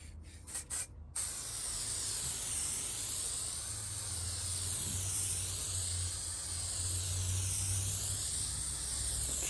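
Aerosol can spraying a clear glaze coat onto glass: a steady, close, continuous hiss that lasts several seconds after brief handling clicks at the start, with a slow, even back-and-forth sweep.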